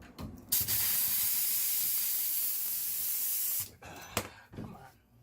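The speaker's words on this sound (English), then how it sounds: "Now we hook up the compressed air hose" A compressed air hose blasts air through household water lines during winterizing, a loud steady hiss lasting about three seconds before cutting off, followed by brief clatter and faint handling noises.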